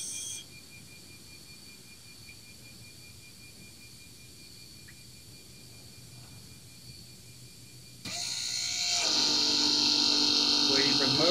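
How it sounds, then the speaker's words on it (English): The ABS actuator pump motor on a 2010-2015 Toyota Prius, during brake bleeding after actuator and accumulator replacement: a quiet electrical hum gives way partway through to a loud, sustained whirring whine as the motor starts and keeps running. "Waiting for the motor to stop."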